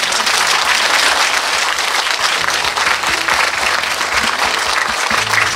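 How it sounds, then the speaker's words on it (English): Loud, dense applause from a concert audience for a singer, a steady wash of many hands clapping that holds evenly from start to finish. "One more time, applause."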